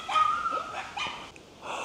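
A dog gives short yips and whimpers, a few brief high whines and soft barks, somewhat faint, with outdoor background.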